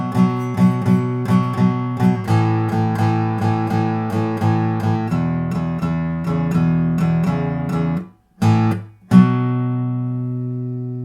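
Acoustic guitar strumming a simple beginner blues pattern, steady rhythmic strokes for about eight seconds, then a pause and two final ringing strums left to decay, close and clear with no talking.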